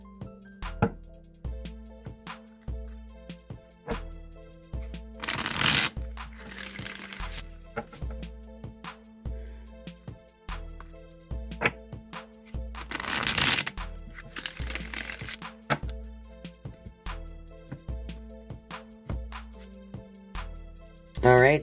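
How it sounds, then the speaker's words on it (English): Someone shuffles a Rider-Waite tarot deck over steady background music, and two bursts of riffling, papery card noise rise clearly above the tune several seconds apart. "I'm going to go ahead and shuffle the Rider-Waite deck a few times"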